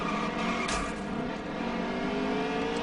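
Race car engines roar continuously in NASCAR Heat 3, a steady loud drone of several stock cars running close together with no talk.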